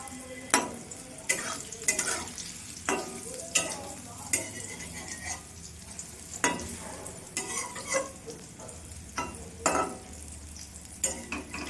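Steamed chana dal pieces frying in turmeric-tinted oil, a soft sizzle punctuated by sharp intermittent scrapes and clinks of a spatula stirring against the pan.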